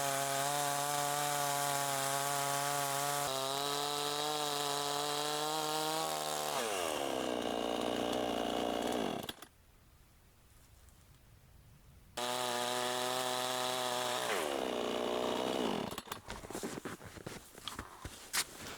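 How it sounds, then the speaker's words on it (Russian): A motor saw cuts small wooden bars outdoors in freezing weather while a dugout is being built. A steady loud engine whine sags in pitch as it bites, stops for a few seconds, then returns and winds down with rough cutting noise. "Пилю я небольшие маленькие брусочки."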